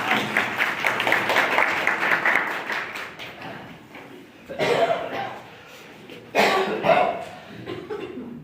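Staff audience at a school in-house training session clapping to welcome a teacher, a brisk burst of applause that dies out after a few seconds, followed by two short bursts of clapping or noise.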